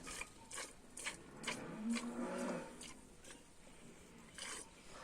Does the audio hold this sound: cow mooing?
yes